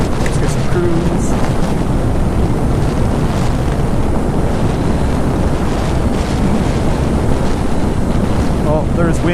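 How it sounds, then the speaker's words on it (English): Steady, loud wind buffeting the microphone while riding along Route 317 South, a continuous broadband roar with no breaks and faint, indistinct voice traces underneath. "there's wind, but it seems to be pointing right into it"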